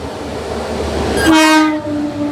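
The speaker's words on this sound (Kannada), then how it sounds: "ವಾರಣಾಸಿಯಿಂದ ಮೈಸೂರಿಗೆ ಹೋಗೋ ಟ್ರೈನ್ ನೋಡಿ" The Varanasi to Mysuru Superfast Express passes close by, its loud horn blaring over the rumble of the moving train, with no voices.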